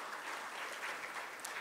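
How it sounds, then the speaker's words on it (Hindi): A crowd at an MSME summit gives a brief burst of steady, many-handed applause, a thick uniform patter from the audience lasting under two seconds. "तो पुनः एक बार जोरदार तालियां होनी चाहिए सभी की ओर से"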